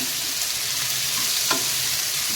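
Salted tomatoes for chutney fry in a pan over a low flame, giving a steady close sizzling hiss with one brief stirring scrape midway.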